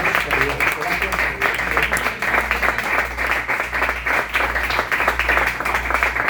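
A church congregation claps loudly and continuously, with voices talking or calling out over the applause and a rhythmic low thump pulsing underneath.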